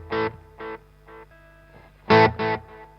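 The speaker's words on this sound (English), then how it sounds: "Because the timeline is capable of so many amazing delay sounds" Electric guitar played through a Strymon Timeline delay pedal, with short plucked chords repeating as fading echoes, each repeat quieter, then a louder pair of chords near the end, no voices.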